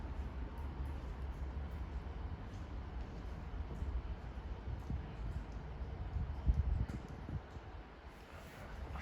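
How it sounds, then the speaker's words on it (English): A train pulls into platform 3 at Wrexham General station as a steady, low rumble with broad rolling noise, swelling briefly near the end before easing off. "what's this mystery train then that's just turned up in P3?"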